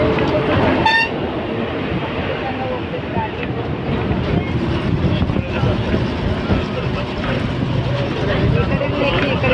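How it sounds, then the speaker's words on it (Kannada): A train rumbles past close by on the new Pamban Bridge amid heavy wind buffeting, with a short horn toot near the start; people talk over the noise. "ಟ್ರೈನ್ ಹಾಂ ಮ್ಯಾಗ ತಳಗ ಎರಡು ಕಡೆ ಹೋಗ್ತಾವ"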